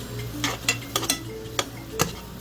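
Maruchan yakisoba ingredients with lunch meat sautéing in a pan, a soft sizzle under a handful of sharp utensil scrapes and clicks spaced irregularly and close by.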